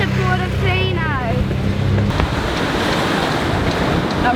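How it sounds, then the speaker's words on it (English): Strong wind at Portofino on a sailing boat roars steadily and loud throughout, with a voice heard briefly over it at the start. "It's so windy"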